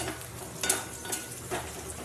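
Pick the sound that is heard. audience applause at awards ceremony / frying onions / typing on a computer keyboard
frying onions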